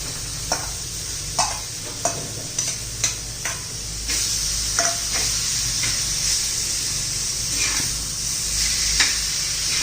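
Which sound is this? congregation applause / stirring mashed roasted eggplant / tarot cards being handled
stirring mashed roasted eggplant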